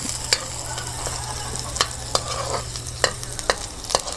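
Garlic stir-fried in a hot pan, a close, steady sizzle broken by sharp scraping clicks of a utensil stirring at irregular intervals, with no voices over it.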